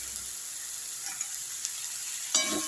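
Fresh green peas sauté in a pan, a low continuous sizzle with a few soft stirring ticks and a brief louder scrape near the end, no voices.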